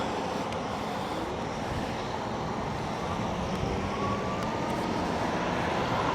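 A DYU M20 Lite electric bike accelerates on its twist throttle, heard as a steady, loud rushing roar of wind and tyre noise that holds constant throughout with no talking.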